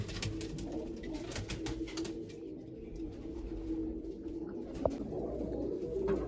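A continuous, fairly faint, deep cooing comes from pigeons in coops as a keeper separates flying birds from large ones. Repeated rolling coos run throughout, broken by a single sharp click near the end.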